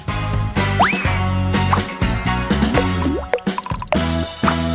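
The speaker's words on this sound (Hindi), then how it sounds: "फिर थोड़ा पानी मिलाऊंगा और बेशक डाई।" Water is poured and splashed into gelatin and dye during cooking, with irregular plops, drips and gurgling sweeps, close and fairly loud, alone without talk.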